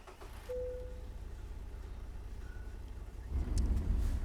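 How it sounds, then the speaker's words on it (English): A truck engine in American Truck Simulator starts and idles as a low steady rumble that grows louder near the end. "get our engine going here."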